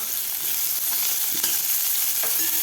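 Chopped medium onion frying in a pan with asafoetida for a dry Marathi potato bhaji, a steady close sizzle with occasional stirring scrapes and no talking.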